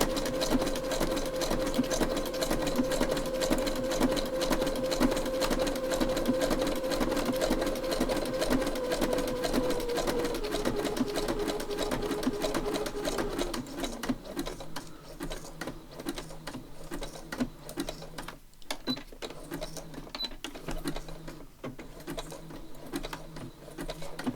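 Sewing machine stitching along junk-journal paper with reverse stitches: a fast, steady mechanical whir and patter running loud for about thirteen seconds, then shifting to a lower, choppier rattle with brief pauses and bumps.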